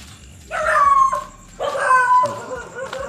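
Pet dogs at a house greet their returning owner with two drawn-out, wavering vocal bursts, yelping or howling-like barks, fairly close and loud, separated by a short pause.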